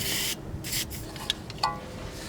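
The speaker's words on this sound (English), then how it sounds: "let's spray down the nut" A spray can hisses in a long burst onto a stabilizer link nut on a 2013 Nissan Sentra, then a shorter one, followed by a few faint metallic clinks and taps.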